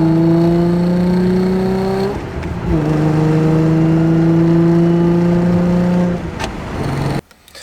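A Nissan 350Z fitted with a new short shifter drives along, its engine tone climbing steadily through the revs, dipping briefly at each gear change, then rising again; it is loud and close, with no talk.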